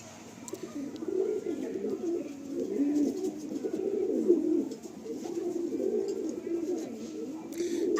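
Madrasi pigeons coo in a loft, several birds giving soft, rolling, overlapping calls in a continuous, moderately loud chorus, with brief flutters and small rustles nearby.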